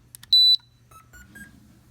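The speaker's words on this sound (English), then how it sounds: "You can hear it turn on." A toy-grade RC car powers on and syncs with its controller, giving one short, clear electronic beep followed by a few fainter, softer chirps in an otherwise quiet room.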